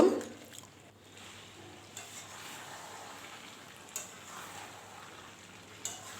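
Chicken pieces for a potato chicken curry sizzle steadily in a pan while being sautéed, a soft continuous frying hiss with a few faint stirring clicks and no one talking.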